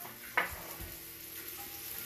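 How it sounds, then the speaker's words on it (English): Pork tenderloin frying in a pan, giving a soft, steady sizzle heard close but quiet, with a sharp clink or scrape near the start and a faint stirring sound shortly after. "But it's got a sizzle."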